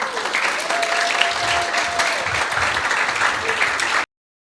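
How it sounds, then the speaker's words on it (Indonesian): Applause from a congregation during an Indonesian church service, dense steady clapping sustained for about four seconds at close range before cutting off abruptly. "Beri tepuk tangan dulu sekali lagi."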